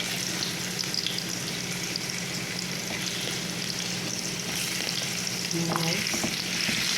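Potatoes and carrots fry in a pan for a beef kaldereta, giving a steady, dense sizzle throughout with faint stirring and a brief spoken word near the end.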